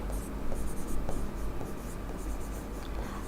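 A pen scratches steadily across a board or paper during a Hindi-language lecture on industrial disputes, with short strokes in a quick, irregular rhythm, close and clear, while the lecturer's voice is faintly present underneath.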